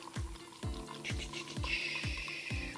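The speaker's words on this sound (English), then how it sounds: "I'm gonna fill this halfway with water from the tap." Tap water runs steadily into a container being filled halfway, with a repeating low thumping and clinking pattern and a hissing stream that brightens partway through, close and fairly quiet.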